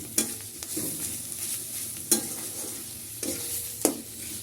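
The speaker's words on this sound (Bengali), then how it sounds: "এটা আস্তে আস্তে আস্তে আস্তে ভাজতে ভাজতে তেল তুলে ফেলবো" Taro leaves with onion, garlic and chilli frying in oil, a steady close sizzle broken by several sharp scrapes and clanks of a spatula stirring the pan.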